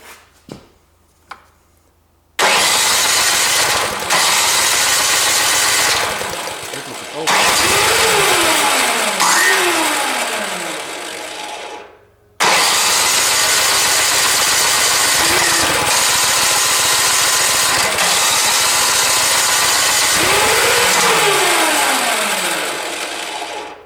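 A snow blower engine is pulled to start, catching and roaring loud and close, then settling into a rough idle. It cuts out briefly, restarts and runs again with several rising revs.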